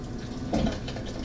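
Tap water runs into a container in a home kitchen for about half a second, a short, fairly close splash over steady low room noise.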